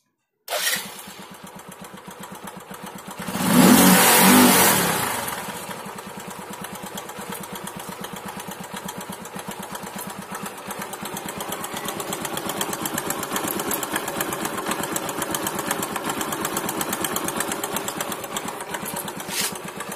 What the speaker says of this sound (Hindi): इस तरह की आवाज़ आने लगती है हमारे बाइक के इंजन से